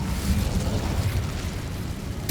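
An Incendio fire spell erupts in Hogwarts Legacy, a steady roaring blast with deep rumble that holds for about two seconds before a sharp crackle at the end.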